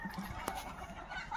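Sonali chickens clucking on a small egg farm: soft, irregular clucks and short calls from several birds nearby, with a steady faint background murmur and no talk.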